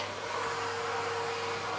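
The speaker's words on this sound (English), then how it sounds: "Kind of vacuum around all the legs, quite awkward." A vacuum cleaner working around chair legs to pick up dog hair during a home cleaning session, a steady close motor whine holding level throughout with no pauses.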